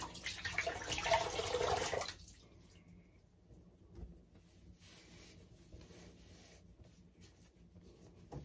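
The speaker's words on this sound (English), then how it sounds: "Do a cold water rinse here." Tap water gushes loudly for about two seconds as a cold rinse while shaving, then cuts off, leaving a quiet room with faint drips and small handling noises.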